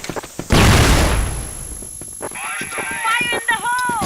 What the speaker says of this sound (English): Smoking grenade.